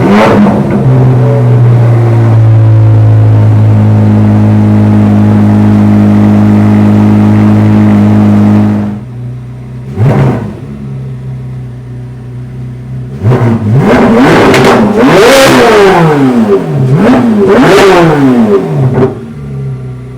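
A Corvette C8 Z06 with a 2M Fabrication exhaust idles loudly and steadily, then barks through a short blip and a series of sharp, rising revs, close and powerful with no talking.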